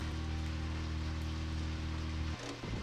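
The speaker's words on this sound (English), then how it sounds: "It's raining." Steady rainfall in the video game Deadly Premonition, a continuous hissing wash over a low humming drone that cuts off abruptly near the end.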